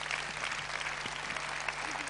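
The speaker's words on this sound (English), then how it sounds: "Give a big round of applause." A seminar audience claps in steady, dense applause, moderately faint and even throughout, with no speech over it.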